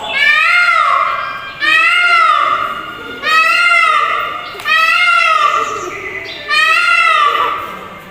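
A voice imitates a peacock's call, five loud, drawn-out wailing cries in a steady rhythm, each rising and falling in pitch.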